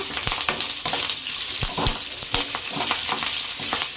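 Curry leaves frying in a hot pan, a dense continuous crackling sizzle with scattered sharp pops and stirring clinks, close and steady throughout.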